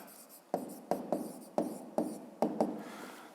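A pen writes on paper close by in a quiet room, making a series of short scratchy strokes in an uneven rhythm, about seven distinct bursts, with no talking.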